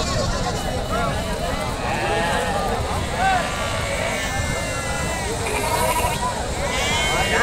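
Goats bleat at a busy village livestock market, with wavering, nasal cries coming repeatedly through constant crowd chatter and people talking nearby.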